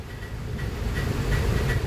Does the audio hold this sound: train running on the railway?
yes